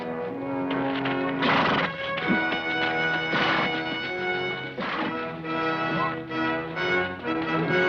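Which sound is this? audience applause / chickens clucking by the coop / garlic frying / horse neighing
horse neighing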